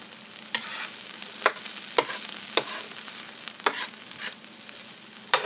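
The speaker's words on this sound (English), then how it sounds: "So you got your onions, your green peppers, caramelized together." Onions and green peppers fry and get stirred together in a pan, a steady soft sizzle broken by several sharp scraping stir strokes spread through the clip, close and with no talking.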